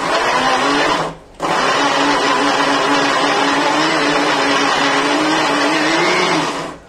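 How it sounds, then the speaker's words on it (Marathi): A mixer grinder whirs loudly grinding niger seed chutney, briefly stopping for a moment near the start, then running again steadily until it switches off. "मिक्सरला दळून घेऊया."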